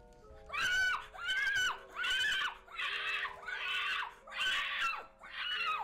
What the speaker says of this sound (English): Oh, this man is screaming out.